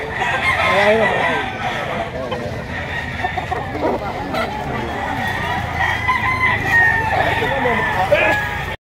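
Chickens clucking and roosters crowing at a busy poultry market in Lipa, Batangas, with a person talking over the birds throughout.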